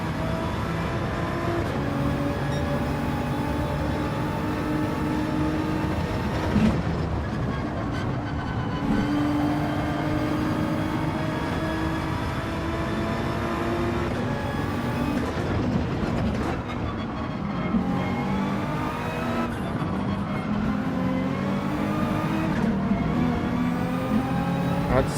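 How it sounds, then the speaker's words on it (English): A Ferrari race car on the Dragon Trail circuit in a VR racing game, its engine droning steadily with rising and falling revs through gear changes, loud and continuous without talk. "The Ferrari is fast."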